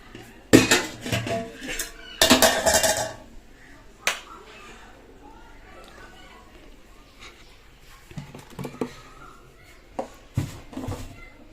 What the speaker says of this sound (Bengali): আর এদিকে ভাতটা বসিয়ে দিই, ভাতটা বড় হাঁড়িতেই বসাবো।